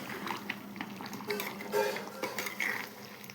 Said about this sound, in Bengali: এই যে এখন আমি জলটা দিয়ে দেবো, গরম জলটা।